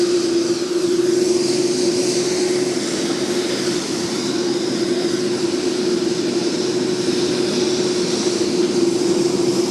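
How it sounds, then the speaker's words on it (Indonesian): A jet airliner carrying the Turkish President arrives at an Indonesian airport, its engines a steady, loud roar with a sustained whine running unbroken throughout. "pesawat dari Presiden Turki Recep Tayyip Erdogan bersama dengan Ibu Negara Emine Erdogan sudah akan tiba ya"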